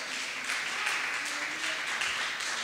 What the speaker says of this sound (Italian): Qualcuno rifaccia un applauso al Signore.